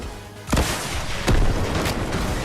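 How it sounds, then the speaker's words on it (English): Two heavy booms from RPG rockets exploding in the video game Fortnite Chapter 2 Remix, each a loud, sharp blast with a lingering rumble, spaced under a second apart. "We can shoot some RPGs."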